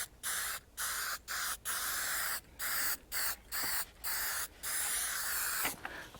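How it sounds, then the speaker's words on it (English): A can of Spray 77 adhesive is sprayed onto a shooting target at a range, with about ten loud, close hissing bursts of varying length separated by short pauses, no voices. "I'll just spray the C-zone."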